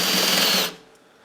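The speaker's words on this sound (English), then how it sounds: "if we try the drill mode on the stripped out screw" A loud cordless drill in drill mode on a stripped screw whirs steadily for about half a second, then cuts off abruptly, leaving near silence.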